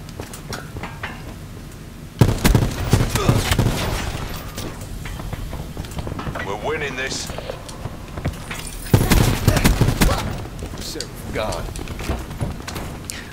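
Rapid bursts of gunfire from the S6 Stingray in a shooter video game, clustered into loud volleys with steady firing between them, with a player talking over much of the action.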